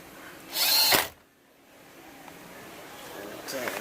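A power tool runs in one short, loud half-second burst while tightening bolts during a Hyundai Accent steering wheel airbag and clock spring replacement, followed by quiet shop ambience.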